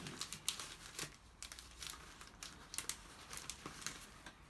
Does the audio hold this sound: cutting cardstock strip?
yes